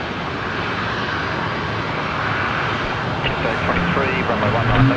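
Aircraft engines roar at Brisbane Airport at night as planes move under their own power with reverse thrust: a steady, loud broadband rumble that swells slightly toward the end, with voices talking over it.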